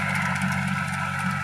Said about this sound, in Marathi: ओल्या रानामध्ये ट्रॅक्टर चालू आहे कंटिन्यू.